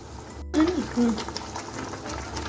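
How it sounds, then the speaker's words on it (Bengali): Tilapia fish simmering in a mustard gravy over a high gas flame gives a steady bubbling and sizzling, with brief louder bursts near the start and a continuous boil underneath. "এখন মাছটাকেও তিনের থেকে চার মিনিট ফুটিয়ে নিচ্ছি গ্যাসটা হাইতে রেখে"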